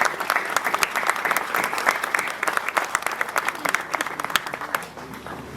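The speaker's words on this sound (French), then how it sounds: "je pense qu'on peut vous applaudir" An audience at the inauguration of the Cuivrerie de Cerdon, a copperworks in Ain, applauds in a dense, sustained round of clapping, fairly close and loud, with crowd murmur beneath it.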